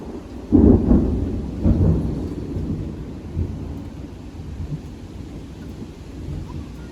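A heavy, deep thunder rumble bursts in loudly, then rolls on and slowly fades into a low, continuous grumble.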